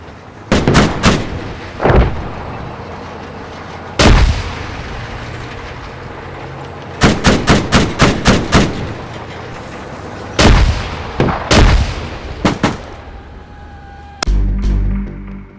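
Gunfire in the ARMA 3 video game rings out as loud, sharp reports: isolated shots and quick clustered volleys separated by brief pauses, each trailing into a short echoing rumble.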